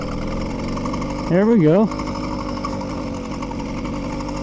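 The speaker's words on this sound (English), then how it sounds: "It's the first time this engine's ran in a couple of months" A motorized bicycle engine idles steadily after a cold start, its drone constant throughout, with a short rising and falling throttle blip in the middle and someone speaking briefly over it.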